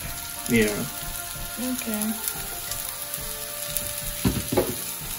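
Rice fries and roasts in garlic for fish garlic rice, a soft steady sizzle with occasional stirring scrapes and brief louder bursts, with a few short vocal sounds over it.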